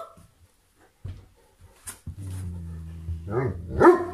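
Household dogs break a quiet room with a hum in the background, giving a couple of close, sharp barks and yips near the end.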